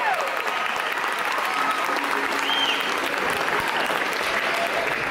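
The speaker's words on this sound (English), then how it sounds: "A lot of applause." Audience applauding at a live concert by an a cappella group, a dense, even wash of many hands clapping continuously, with faint crowd voices beneath.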